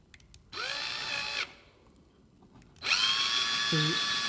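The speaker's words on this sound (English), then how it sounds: "So you can drill this on a dry wall if you want" A power drill whirs into drywall in two bursts, the first under a second long, then a pause before it starts again loudly near the end.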